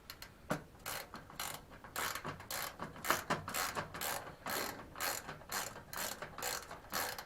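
Close ratchet clicking in steady back-and-forth strokes while bolts are tightened on a Weil-McLain P-468-W hydronic boiler, rhythmic and fairly quiet with no voices.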